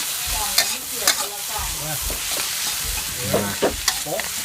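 Squid eggs stir-fry in a hot pan, a steady sizzle with sharp spatula scrapes and clacks every second or so, close and busy with faint talk underneath.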